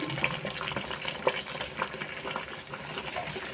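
Onions and garam masala frying in a pan make a steady crackling sizzle, close and continuous, with faint stirring clicks throughout.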